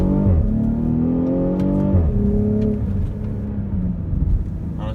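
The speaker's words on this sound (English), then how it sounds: "When you have this car in Sport Plus and give it some gas, when you upshift, it gives it a nice crackle." From inside a 2019 BMW X5 40i in Sport Plus, the engine climbs under throttle, then drops pitch at an upshift while sharp exhaust crackles and pops sound through the cabin, then it pulls again.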